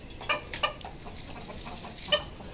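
Hens and other farmyard birds cluck in short, soft calls while feeding, with a few brief clucks standing out over a quiet, steady outdoor background.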